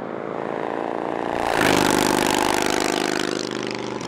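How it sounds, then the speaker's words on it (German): Motor vehicle engines roar on a mountain road in the Swiss National Park on a summer day, a steady drone that swells loudly as a vehicle passes close by, then holds a sustained roar. "Die Motoren heulen ihre Power bis zu den höchsten Gipfel."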